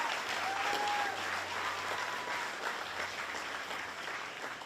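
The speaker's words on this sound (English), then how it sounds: "That deserves a round of applause." A Fancy Farm political event crowd applauds steadily throughout, a dense, continuous wash of clapping with faint crowd murmur beneath.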